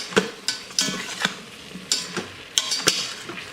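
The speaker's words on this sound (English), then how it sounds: "crushed black pepper, and salt. Stir that around." Spoon stirring crushed black pepper, salt and soup ingredients in an Instant Pot for stuffed pepper soup, a series of scraping strokes with irregular pauses, close and fairly clear, no voices.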